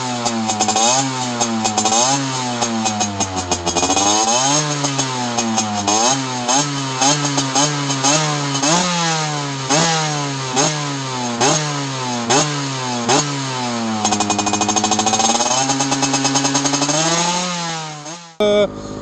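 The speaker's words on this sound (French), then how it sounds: "tu peux donner des petits coups de gaz pour le chauffer" A 50cc Gilera SMT 2013 motorcycle engine with a Top Perf kit is blipped repeatedly to warm up, short bursts of revving rising and falling over a buzzy idle, loud and close, before cutting out.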